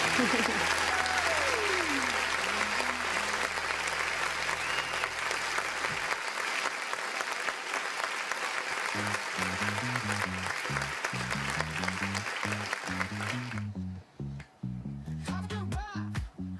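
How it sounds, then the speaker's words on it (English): A studio audience at a live trivia show keeps up dense, continuous applause, and a bouncy musical sting joins partway through before the clapping thins out near the end. "Studio audience, give Laura's dad a round of applause."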